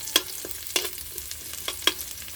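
Chopped garlic sizzles softly in hot oil at the start of a home-cooked pork adobo, while a spatula taps the pan a few times at uneven intervals. The sound is close and there is no talking.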